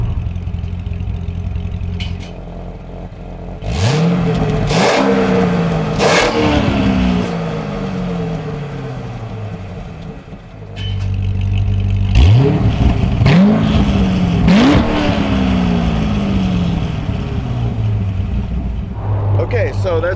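A C6 Corvette Z06 with a modified exhaust revs hard twice from a loud idle, each blip climbing quickly then falling back to a rumbling burble, recorded close by.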